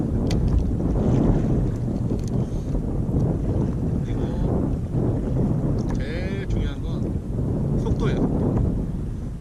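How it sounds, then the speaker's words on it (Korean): Strong gusty wind buffets the microphone during kayak fishing on open water, a loud rumbling roar that fills the clip, with faint sounds of the boat beneath it. "지금 바람이 약간은 세요"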